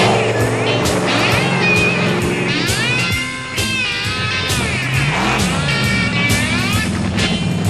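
1991 monster trucks rolling slowly down a drag strip, loud throaty engines rumbling and revving continuously up close, with a brief dip around the middle.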